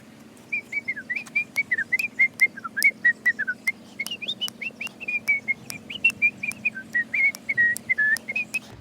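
A person whistles a wavering, chirpy tune, with quick repeated notes sliding up and down, close and moderately loud over a faint steady hum.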